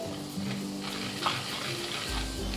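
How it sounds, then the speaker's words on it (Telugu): Chana dal and urad dal fry in oil in a clay pot on low flame, a close continuous crackling sizzle with light stirring scrapes, no talking. "అదే ఆయిల్లో వన్ టీ స్పూన్ శనగపప్పు వేసుకోవాలి వన్ టీ స్పూన్ మినపప్పు వేసుకోవాలి క్లే పాట్ కదా స్టవ్ సిమ్లో పెట్టుకొని వేయించుకోవాలి"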